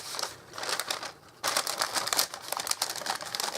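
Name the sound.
handling noisy greaseproof paper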